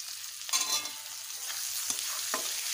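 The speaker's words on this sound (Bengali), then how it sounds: "এবারে দিয়ে দেব কোচানো পেঁয়াজ, দিয়ে দেব" Chopped onion and crushed garlic hitting hot oil after tempering spices, frying for a Bengali potato and shing fish curry: a soft sizzle with a few sharp clatters of stirring, quiet and close.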